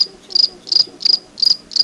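Crickets chirp in loud, close bursts of rapid pulses, about five evenly spaced trills in quick succession, with no other sound around them.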